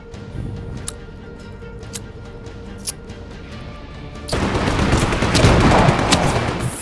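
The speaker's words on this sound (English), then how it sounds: "Shooting at me." Scattered single shots in the Just Cause 3 video game, then a sudden loud swell of continuous heavy gunfire and blasts filling the second half.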